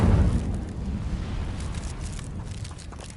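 Casting the Incendio fire spell in Hogwarts Legacy on PS5 gives a brief, muffled low whoosh or boom at the start that fades into a quiet rumbling tail.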